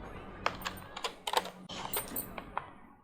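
Someone types on an old, thick computer keyboard, with a handful of irregular, close clacks of varying loudness and no voices.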